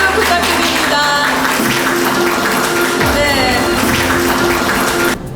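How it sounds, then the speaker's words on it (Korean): An audience claps at a Korean Ministry of Justice ceremony for the North Korean human rights archive, with steady clapping under music-like tones and voices, ending abruptly near the close. "큰 박수 부탁드립니다"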